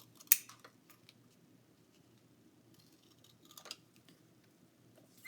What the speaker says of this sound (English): each small piece I would just trim out with your scissors